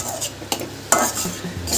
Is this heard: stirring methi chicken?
yes